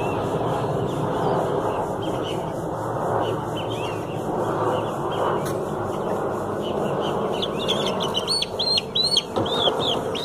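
Chickens cluck steadily inside a henhouse, with several birds calling close by over a constant farmyard hum and a burst of higher clucks near the end.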